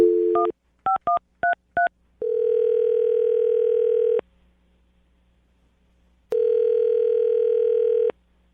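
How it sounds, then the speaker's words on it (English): A telephone line starts with a short tone, then a quick run of touch-tone dialing beeps, followed by two long steady ringback tones with a pause between them, clean and close. "I'm going to dial the phone number right now"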